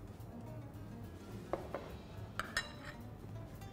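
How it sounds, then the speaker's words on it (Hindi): A utensil clinks and scrapes against a bowl a few times while yogurt is mixed with spice masala in a kitchen. The sounds are soft and sparse over a low background hum. "थोड़ा सा दही लेंगे, और इस दही में हम सारा का सारा जो मसाला है उसको मिक्स कर लेंगे।"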